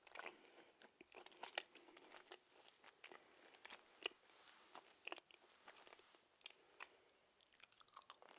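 Crunchy homemade Nutella cookies are bitten and chewed up close and quietly, with soft crisp crackles and snaps in an irregular rhythm and no talking.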